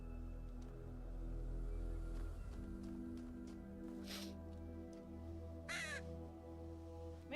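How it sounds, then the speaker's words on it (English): A loud crow caws twice, a few seconds apart, with a harsh, near sound over a steady low background hum. "that crow is loud."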